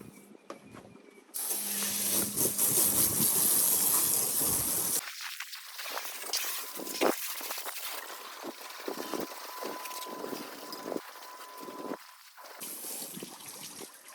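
A hose sprays water in a loud hissing rush off a Chris Craft Catalina boat hull, then water splashes and trickles intermittently against the hard surface.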